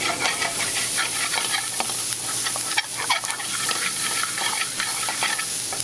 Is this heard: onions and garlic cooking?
yes